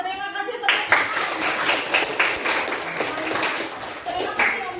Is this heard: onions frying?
no